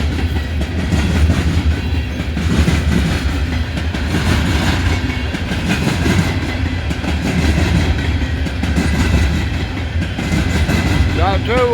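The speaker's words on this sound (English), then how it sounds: "got a locomotive back there, distributing power." A BNSF freight train with distributed power locomotives rolls past close by, a loud continuous rumble with rhythmic clickety-clack of wheels on rail joints throughout.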